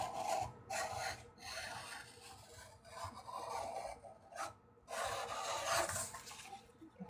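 Paper being trimmed for a 6x8 memory keeping album, giving repeated dry rasping strokes of a blade or trimmer across the sheet in several close bursts, with no talking.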